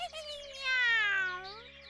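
A single drawn-out cat meow, rising and then falling in pitch, heard up close and clear over a quiet background.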